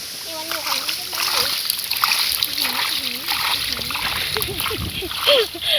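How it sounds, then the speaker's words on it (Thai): Water splashes and sloshes as someone jumps in while fishing outdoors, a continuous close splashing wash with voices talking over it throughout. "กระโดดลงน้ำละ"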